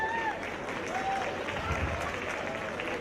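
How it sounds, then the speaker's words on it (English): A crowd at a junior livestock show claps for the kids, a steady burst of applause with a few cheers and whistles and some voices mixed in. "Go ahead and give these kids a round of applause."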